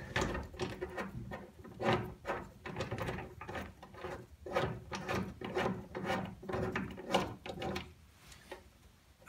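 An Astro Pneumatic 1442 nutsert tool being unscrewed, giving a run of close, rhythmic ratcheting and rubbing clicks with no talk.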